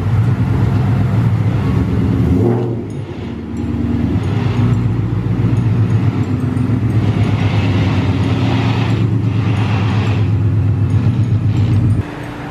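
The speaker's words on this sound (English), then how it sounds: "So as you guys just saw, got the car pulled in" A 700 hp Mustang GT rolls into the shop with a loud, close, steady engine rumble that dips briefly and then holds until it cuts off near the end.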